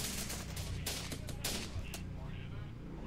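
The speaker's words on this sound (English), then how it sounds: "even our engineers are returning fire on the enemy infantry here" Engineers trade rifle fire with enemy infantry in the strategy game Syrian Warfare, with rapid crackling gunshots over a constant, dense battle din.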